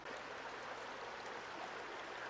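A mountain creek in the Great Smoky Mountains near Gatlinburg rushes with a steady, even hiss of flowing water, faint and continuous, with no voices.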